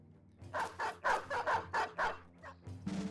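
Dogs in the video game Battle Brothers bark in a fast string of about eight sharp yaps, close and fairly quiet, ending in a longer yelp.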